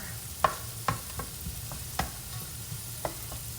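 Butter melts in a pan for a creamy chipotle sauce, giving a soft sizzle punctuated by a few sharp utensil taps and clinks against the pan, fairly quiet and close.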